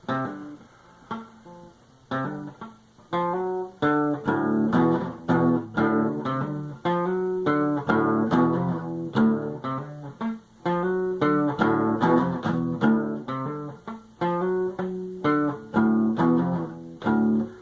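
An acoustic guitar plays a repeating riff with plucked notes and sliding pitch changes, steady and clear, with no voices.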